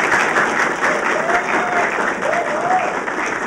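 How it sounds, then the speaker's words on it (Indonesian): A studio audience claps together in continuous, dense applause at a comedy show, loud and even throughout with a faint murmur underneath. "Tepuk tangan semuanya."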